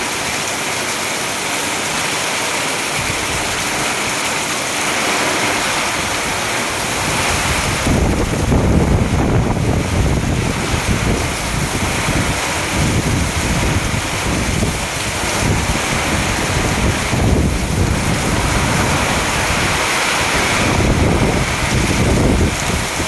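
Heavy monsoon rain pours over the Khapat employees' society neighbourhood in Porbandar, a loud, steady roaring hiss that swells in intensity partway through and continues without break, with no voices.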